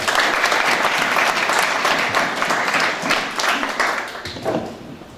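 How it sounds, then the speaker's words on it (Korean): Sustained applause from a crowd at a party convention, dense and steady clapping that gradually thins and fades toward the end. "자, 박수로 맞이해 주십시오."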